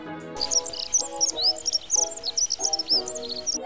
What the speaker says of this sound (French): quoi de plus beau d'entendre les oiseaux chanter le matin